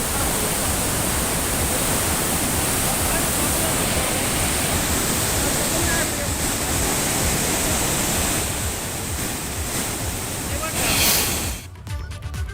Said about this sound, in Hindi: मूसलाधार बारिश की वजह से बरसाती नाला उफान पर बहने लगा